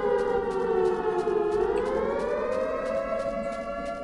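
The Siren Head monster in a video game lets out a loud, wailing siren whose pitch slowly bends downward and rises again, a sustained eerie drone filling the whole moment without talk.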